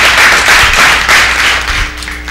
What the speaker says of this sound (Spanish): Dale un aplauso al Señor si lo crees conmigo.